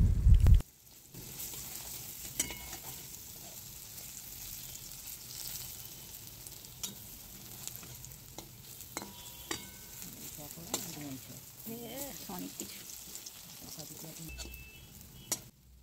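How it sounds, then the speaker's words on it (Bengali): Capsicum pakoras deep frying in medium-hot oil, giving a steady close sizzle and bubbling through the whole stretch, with occasional soft stirring and scraping sounds and a short thump at the start. "বড়াগুলো ভাজার সময় আঁচটা একদম মিডিয়াম রাখতে হবে"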